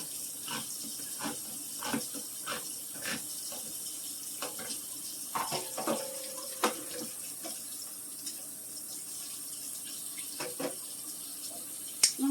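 Tap water running over rinsed canned vegetables at a kitchen sink, a faint steady trickle with scattered light splashes and clinks.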